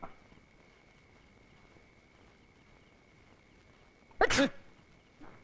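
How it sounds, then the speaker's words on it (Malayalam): A single loud, sharp sneeze bursts out near the end of a quiet indoor comedy film scene in Malayalam, preceded by low room hiss and followed by a faint rustle. "ഞാൻ തുമ്മിയതാ."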